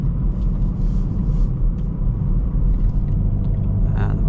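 Deep, steady engine rumble from a Hyundai i30N facelift with a loud four-cylinder engine while driving, filling the cabin continuously and close, with road noise and no talking.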